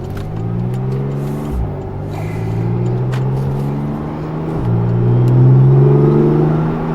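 A Porsche 911 Turbo S with a dual-clutch gearbox pulls strongly from inside the cabin, its engine droning loud and steady, with two quick paddle-shift gear changes that drop the pitch before it climbs again.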